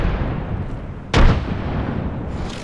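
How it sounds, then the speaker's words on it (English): A frag grenade blows up in Apex Legends: one sudden, loud blast cuts through steady game noise, then leaves a lingering rumble. "Delivering frag."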